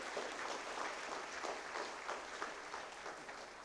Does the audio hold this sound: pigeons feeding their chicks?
no